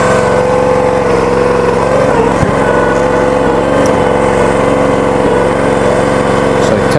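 Small engine on a log splitter running steadily after a cold start, a loud close continuous drone with a slight uneven pulse.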